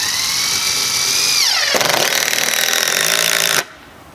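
A DeWalt DCF885 20 volt cordless impact driver drives a deck screw: a high motor whine drops in pitch, then rapid hammering impacts rattle for about two seconds before stopping abruptly, loud and close.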